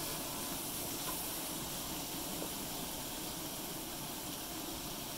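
Onion and garlic sizzling in a pan, a steady broadband hiss that holds evenly throughout, with no talking.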